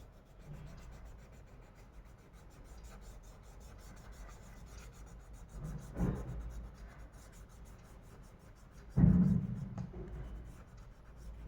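A finger smudges oil pastels on paper in a landscape drawing, making a soft, continuous rubbing close up, with two brief louder scrapes partway through; a faint voice murmurs in the background.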